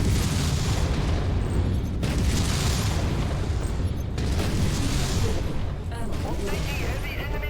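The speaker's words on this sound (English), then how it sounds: "Incoming missile." Incoming missiles strike in MechWarrior combat, a dense, continuous barrage of heavy booms and crackling blasts that stays loud throughout, with sharp bursts cutting in every couple of seconds.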